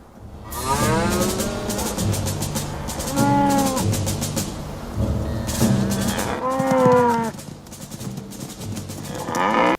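Several cows moo in loud, drawn-out calls, one overlapping another, close by and steady over a low rumbling background.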